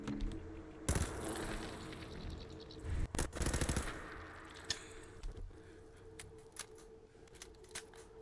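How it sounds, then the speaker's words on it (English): Rapid gunfire from the video game Fallout 4, with loud automatic bursts near one and three seconds, then scattered single shots and short clicks trailing off more quietly, with no one talking. "Figure the gun sucks. Shh, just use a lot of bullets."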